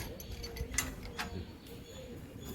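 Borewell drilling rig lowering a die down the bore to catch a broken pipe, with scattered metallic clanks and ratcheting knocks over a steady low mechanical rumble.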